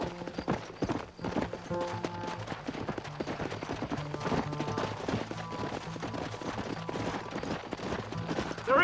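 A horse gallops in Red Dead Redemption with rapid, steady clip-clop hoofbeats and a few scattered gunshots, loud and close, running continuously across the whole stretch.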